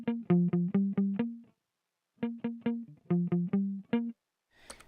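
Two runs of short, bright reggae bass-picked electric guitar notes with the tone knob all the way up, in a quick choppy rhythm, separated by a pause, with a faint strum at the end.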